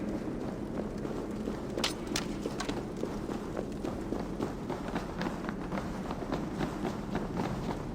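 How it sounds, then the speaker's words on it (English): Footsteps in Assassin's Creed Valhalla, a rapid dense patter of many running feet, like a group approaching, steady and continuous under a faint voice. "That sound. Is it thunder? Footsteps."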